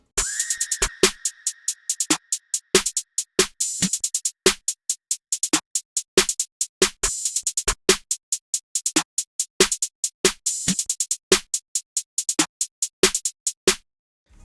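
FL Studio trap percussion loop with accented snares, a generic open hi-hat and a scream effect: fast, crisp, evenly driving hits with rapid rolls, dry and loud, a brief shrill tone near the start.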